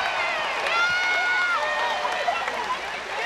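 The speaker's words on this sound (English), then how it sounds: "this sellout crowd gives a much-deserved standing ovation" A sellout crowd at a Rainbow Wahine volleyball match against Long Beach State rises in a standing ovation during senior night, a steady roar of cheering and applause that fills the arena, with a voice talking over it.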